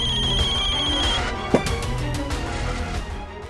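A phone ringtone sounds after a call is placed to someone, a repeating tonal ring at steady level with a brief sharp knock partway through.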